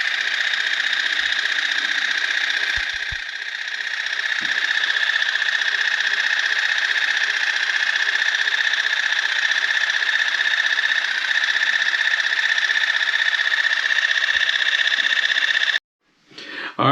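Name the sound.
cordless water flosser running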